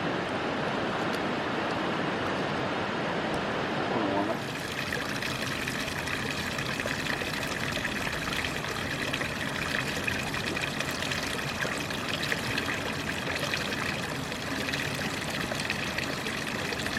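Hot spring water at Umpqua Hot Springs spills through little waterfalls and channels, a loud, continuous rushing and splashing flow that stays steady throughout with no talk.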